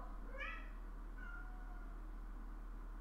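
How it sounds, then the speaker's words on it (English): A cat meows loudly on the other side of a closed door, two rising calls close together followed by a shorter, fainter meow, with steady low hum beneath. "She's sitting outside the door here meowing loudly at me."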